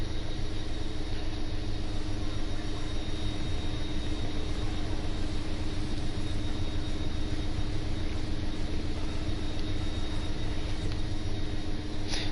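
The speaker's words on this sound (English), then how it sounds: "But the helicopter is actually a really cool vehicle in the game." A police helicopter in the racing game The Crew 2 flies with a steady, dense engine and rotor drone, loud and unchanging throughout, with a constant low rumble and no voices.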